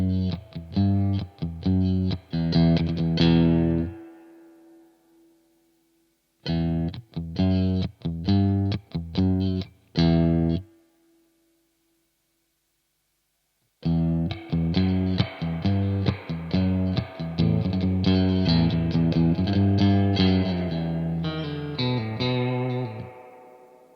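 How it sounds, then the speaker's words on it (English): Electric guitar through a Crazy Tube Circuits White analog spring reverb and tremolo pedal on long dwell, playing loud strummed chords in three bursts with drippy spring tails ringing out into brief silences. "because there's a real spring in there, we're getting really drippy tones"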